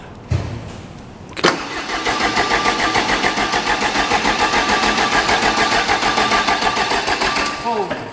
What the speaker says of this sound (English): Okay. I'm gonna crank.